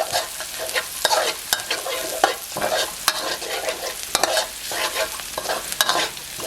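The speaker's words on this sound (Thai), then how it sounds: "โอเคผัดไปเรื่อยๆนะครับไม่ต้องรีบครับ" Chili and garlic stir-fry in a pan with a steady sizzle, punctuated by sharp scraping and clanking strokes of a spatula at an irregular rhythm, close and fairly loud, with no talking.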